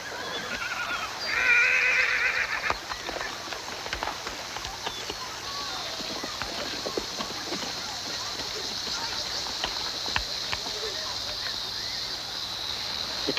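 A horse lets out one loud, clear whinny near the start. Low hoof clatter and background noise continue afterward, and people talk over the scene.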